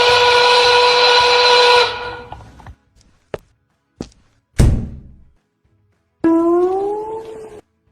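A steam-train whistle sound effect blows a loud harmonic tone that cuts off, then a few sharp thunks and knocks follow in near silence. The whistle returns with a bending, sliding pitch.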